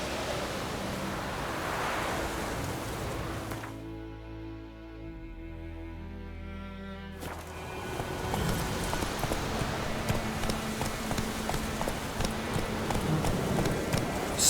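Roach, Geralt's horse in The Witcher 3, gallops with steady, dense hoofbeats under a broad rushing noise. The hoofbeats break off briefly in the middle while a tonal music swell plays, then resume at full pace.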